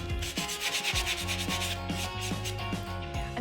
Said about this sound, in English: I'm sanding my planter now just to give it a little more of that shabby chic look.